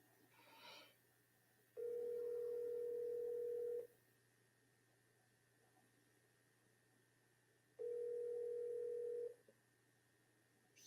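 Telephone call ringing tone on a forwarded call, two steady electronic rings separated by a long quiet gap, clean and isolated with a faint background hum.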